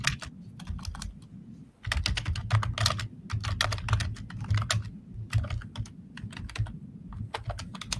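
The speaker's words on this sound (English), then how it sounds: "I know that when the typing happens, my voice won't go through" Fast computer keyboard typing fills the scene, dense bursts of clicking keys close to the microphone with a short pause near the start, no voices over it.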